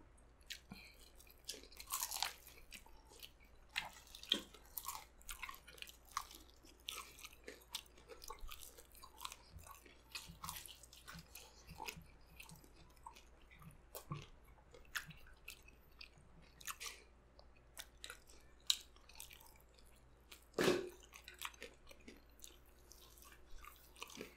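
Crunchy spicy Jollibee fried chicken being chewed up close, with a steady stream of quiet crisp bites and crunches repeating over about twenty seconds, no talking.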